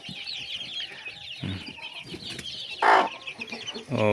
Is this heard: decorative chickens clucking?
yes